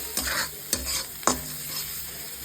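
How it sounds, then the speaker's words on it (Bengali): Ground spices with Kashmiri chilli powder sizzle in a pan while a spoon scrapes through them three times, sharp strokes over a continuous close frying hiss, with no talking. "খুব ভালো করে ভাজা ভাজা করতে হবে"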